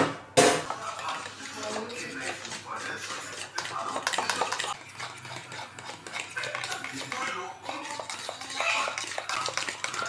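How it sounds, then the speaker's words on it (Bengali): Egg beaten in a bowl with two spoons of cornflour, for Bengali prawn cutlets, stirred and mixed with a spoon in steady clinking scrapes and taps against the bowl, close and continuous throughout. "ডিমের গোলাটার মধ্যে আমি দিয়ে নেবো 2 চামচে পরিমাণ কর্নফ্লাওয়ার। দিয়ে এটাকে ভালো করে মিশিয়ে নেবো।"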